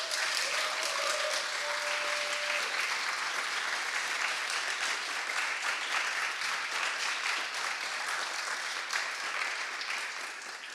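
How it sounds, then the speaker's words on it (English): Sustained applause from an audience at a science communication contest final, steady and dense throughout, cheering participants and fading slightly at the end. "So a big applause, please, for everybody who participated today."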